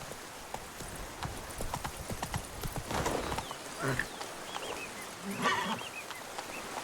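Galloping horse hooves in The Witcher 3 video game, a steady rapid clip-clop with brief whinnies, set in busy outdoor game ambience; no talk is heard.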